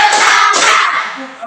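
A classroom of students claps in unison in short bursts, loud and close, giving counted group claps to show morning spirit before a lesson.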